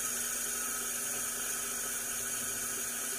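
Reverse-cutting drill bit boring into a broken screw lodged in a barrel arbor, a steady, high-pitched whine with a constant hiss that holds throughout this short stretch.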